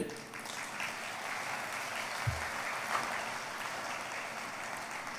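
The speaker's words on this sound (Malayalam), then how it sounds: "ഒന്ന് കൈ ഉയർത്തി കൈയടിച്ച്." A church congregation claps steadily for several seconds, a dense, even wash of applause without pauses.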